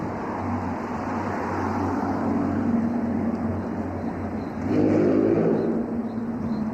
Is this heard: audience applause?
no